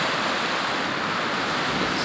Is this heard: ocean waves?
yes